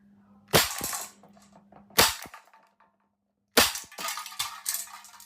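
Three sharp gunshots ring out at a shooting-practice target, a perforated can, each crack loud and close with a short decaying tail; the third is followed by a few smaller echoing impacts.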